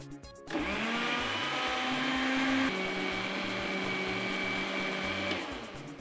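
An electric blender whirs steadily while blending ingredients for a croaker fish stew, a continuous close motor drone that shifts pitch partway through as the load changes, running alone without voices.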